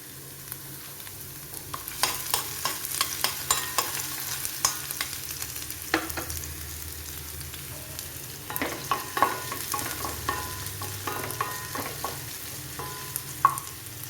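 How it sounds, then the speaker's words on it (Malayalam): Chopped ginger and garlic frying in oil for an Indian amla (gooseberry) pickle, a steady sizzle with repeated scraping stirs of a spoon in the pan, moderately close and continuous with no talking. "ഇഞ്ചി വെളുത്തുള്ളിയും മൂത്തിട്ടുണ്ട്."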